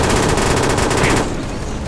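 An M249 machine gun fires rapidly in the Bathroom-Attack video game: a fast, evenly spaced stream of close, loud shots for just over a second, then it stops abruptly.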